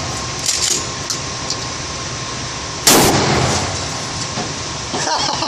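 A Mossberg 500 shotgun fires a single slug outdoors at a shooting range, one loud sharp blast midway through with a short decaying tail over a steady background hiss.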